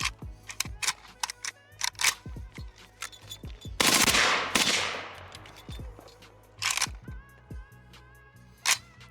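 AK-74 rifle with a drum magazine firing a string of sharp, loud shots in uneven bursts, with a longer rapid burst near the middle and single reports before and after.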